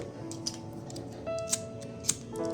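Scissors snip through thread while finishing a knotted bracelet, giving three sharp, brief clicks spaced apart over a low steady background, close and fairly quiet.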